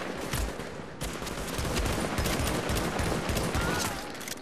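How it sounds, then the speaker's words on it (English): Rapid bursts of light machine gun fire rattle through a fight in The Division's Dark Zone, dense, loud and continuous across the whole stretch with no voices. "Somebody has an LMG. I can hear it."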